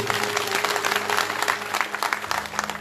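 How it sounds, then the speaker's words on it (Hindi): A gathering during a religious pilgrimage march from Kolkata to Khatu Dham bursts into brisk clapping for a group of gurukul children, a fairly close burst of applause with a low steady hum underneath. "एक बार इन बच्चों के लिए तालियां बजा दीजिए"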